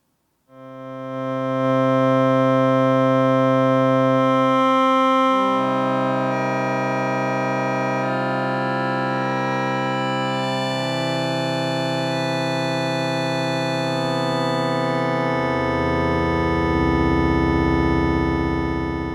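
A distorted synthesizer holds thick, buzzing chords that shift slowly from one clashing harmony to the next, loud and sustained without pauses.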